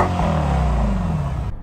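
A Mercedes-AMG SL63 engine rumbles low and loud with a slight snarl, a steady deep exhaust note holding close by before cutting off abruptly at the end.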